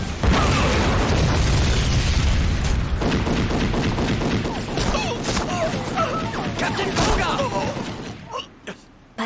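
Cannon fire from warships in a naval battle, a dense barrage of loud booms and crashing blasts that fills the scene continuously before thinning out near the end.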